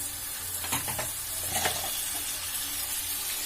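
Beef pieces hit a hot spice paste for a Bengali beef bhuna, giving a steady sizzle with a few scraping stirs of a spoon in the pan, close up and alone.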